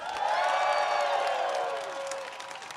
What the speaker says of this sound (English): Give her another cheer, please.